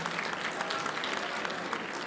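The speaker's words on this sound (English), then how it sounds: "let's give a round of applause for that" A packed room at an economic justice conference applauds, a thick, even roar of many hands clapping together with faint voices mixed in.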